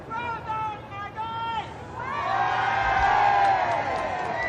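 A street crowd lining a city route in 1982 cheers and whoops as an RAF VC-10 of 10 Squadron flies overhead, voices and shouts swelling loudly after a quieter start, with a voice speaking over it.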